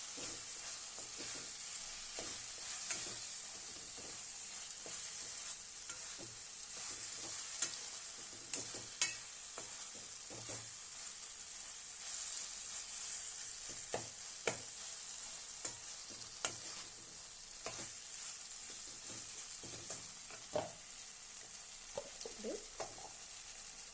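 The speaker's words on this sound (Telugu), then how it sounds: "ఈ మురీలు కొన్ని ఏరియాలో బొరుగులు అంటారు వీటిని ఇవి వేసుకొని కలుపుకోవాలి" A spoon stirring soaked puffed rice into uggani in a pan makes soft, irregular scraping and clicking strokes over a gentle background sizzle, close and fairly quiet, with no voices.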